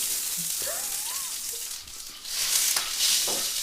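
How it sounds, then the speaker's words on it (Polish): Meat for goulash sizzling and frying in a hot pan, a steady close crackle with a brief dip and then a louder burst of sizzling near the end. "ażeby poddać go procesowi do smażania"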